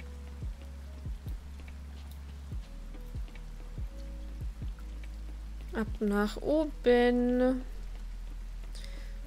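In the video game Coral Island, a steady soft rain falls throughout. Regular footstep-like taps run through the first part, and a voice speaks briefly over the rain near the end.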